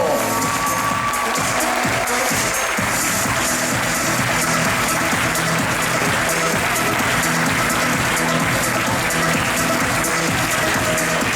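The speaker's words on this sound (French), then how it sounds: "You can applaud, vous pouvez applaudir très fort." A large outdoor crowd applauds and cheers a medalist at the 2016 mountain bike marathon world championship, steady dense clapping that holds loud for about eleven seconds beneath a music bed.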